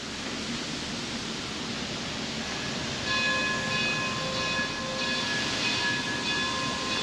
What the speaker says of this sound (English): Oh, I hear a train.